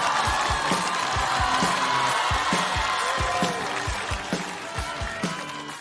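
A studio audience at a stand-up comedy show applauds and cheers as a comedian is introduced, a dense wash of clapping over a thumping rhythmic beat, easing slightly toward the end.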